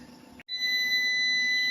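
A Power Master hybrid inverter (model POW-HVM4.2M-24) sounds its alarm as evening falls, giving a steady, piercing electronic tone that comes in after a short gap and holds on alone at close range.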